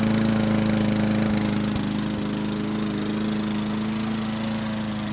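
Small lawn mower engine running after a swap, fitted with a coil and spark plug taken from another engine, a loud, steady, close drone with a strong low hum and a few faint knocks, no voices.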